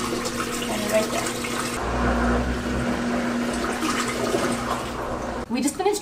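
A portable washer/dryer combo drains its water with a steady, fairly loud rush and a low hum that holds throughout, then breaks into gurgling near the end.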